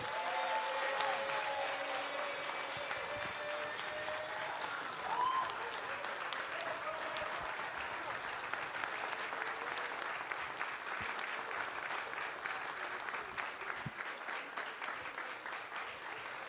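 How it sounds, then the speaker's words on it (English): Sustained audience applause from a crowd at a live talk event, steady dense clapping heard from some distance at moderate level, running unbroken for over fifteen seconds with faint voices mixed in. "So if you can please give a round of applause."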